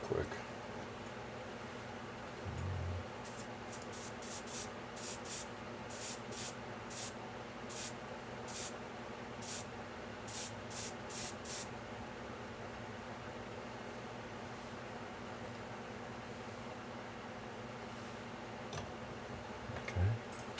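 An airbrush spraying another coat of paint for a skin tone, a faint continuous airy hiss running throughout under a steady hum, with a series of small ticking clicks in the middle.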